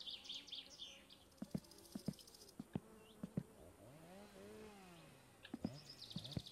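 Wasps buzzing in My Summer Car: a faint, thin insect drone around a car raised for suspension and wheel work, broken by scattered sharp clicks and knocks.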